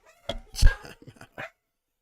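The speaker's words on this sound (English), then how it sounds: "the dog's going to go nuts" A dog barks and yips in a short, close burst of several sharp calls with a brief whine, loud and alone in a quiet room.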